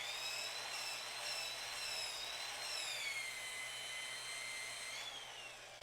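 A power drill whines with a spinning wire brush texturing trim, its pitch rising and sliding as the speed changes, steady and fairly close.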